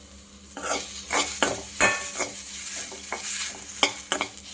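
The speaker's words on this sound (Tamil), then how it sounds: "இப்போ அதே கடாயில் நறுக்கி வச்சிருந்த வெங்காயத்தை ஃபஸ்ட்டு போட்டு வதக்கிக்கலாம்." Chopped onions sautéing in a kadai for ridge gourd chutney: a steady close sizzle with repeated scraping strokes of a spoon against the pan.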